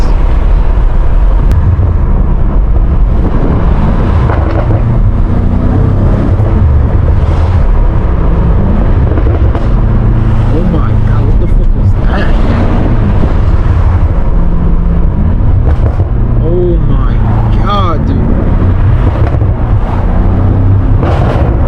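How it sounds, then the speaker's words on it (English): A BMW M5 Competition on backroads, its engine roaring loudly and steadily throughout with sharp exhaust pops and crackles scattered across the drive, the heaviest cluster coming near the end. "Pops in this car are fucking insane, bro"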